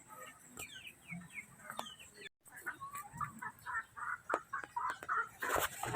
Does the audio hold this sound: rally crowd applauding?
no